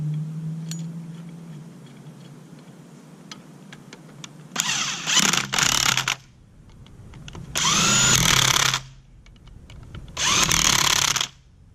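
Cordless power tool driving bolts back in during a modification on a SLR angle build, three loud bursts of whirring after a quiet stretch, each lasting about a second or more, close up with no talk.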